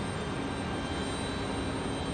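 A FedEx airplane touching down at Raleigh Durham airport in a smoky landing, heard as a steady, broad jet roar holding at even loudness throughout with no voices.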